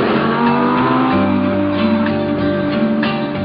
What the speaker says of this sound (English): I was in a Lamborghini in the Alps